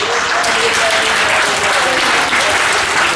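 A church congregation at a Sunday service bursts into steady, dense applause, filling the space loudly and evenly, with a faint voice underneath.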